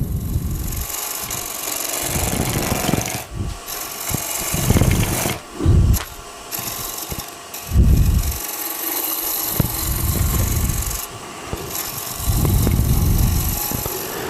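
A Hunter Hercules carbide tool cuts a green wood bowl spinning on a lathe, with a steady motor hum beneath repeated rough, scraping bursts as the tool bites, no talking.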